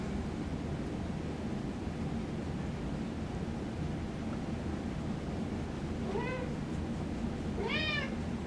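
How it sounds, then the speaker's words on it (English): A cat meows twice near the end, short rising cries over a steady low background hum, with no talking. "Don't mind Kitty just making his appearance in my video per the usual."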